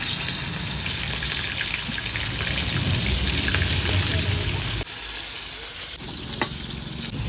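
Fish fries in a pan in a village kitchen, giving a steady, close, loud sizzle with hissing oil and occasional stirring, and a voice faintly present in the background.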